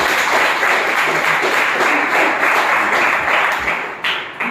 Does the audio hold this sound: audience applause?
yes